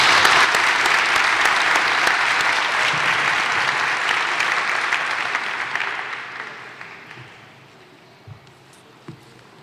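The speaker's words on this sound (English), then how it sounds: "Wow, what a great performance." A large audience at a Manhattan grand opening event breaks into sustained applause after a performance, a dense wash of clapping that holds steady and then thins and fades over the last few seconds.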